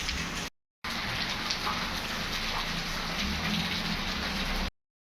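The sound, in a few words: heavy rain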